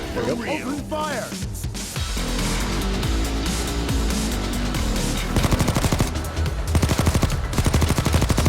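Automatic gunfire in a crime heist video game rattles in rapid bursts, growing into dense, fast machine-gun fire near the end, while voices talk and shout over the shooting.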